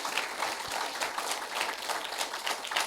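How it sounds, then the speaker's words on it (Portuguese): A church congregation applauds during a worship sermon, fairly faint and steady clapping spread across the room, with no talking over it. "Aplauda o nome do Senhor."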